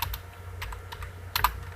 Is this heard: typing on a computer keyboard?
yes